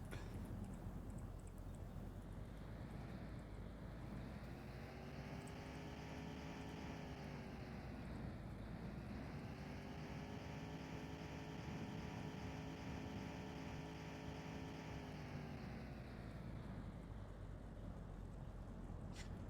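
Fast-driving car engine in the video game The Long Drive, a steady droning whine with rising and falling pitch sweeps as the car speeds and shifts, loud and continuous, with no talking.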